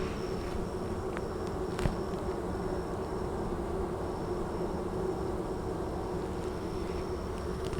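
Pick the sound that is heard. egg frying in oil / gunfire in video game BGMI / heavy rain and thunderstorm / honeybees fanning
honeybees fanning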